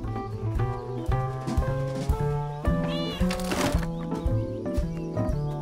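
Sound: cat meowing in the video game Mineko's Night

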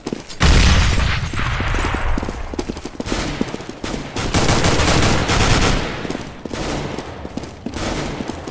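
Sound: grenade explosion with gunfire in a video game (CSGO WarZone)

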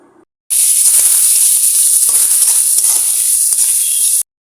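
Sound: dried fish (shutki) frying with spices in a pan

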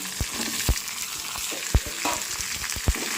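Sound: frying cut tomato and onion in a pan

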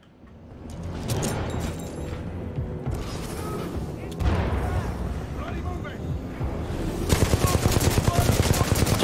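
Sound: turret gunfire in video game Titanfall 2

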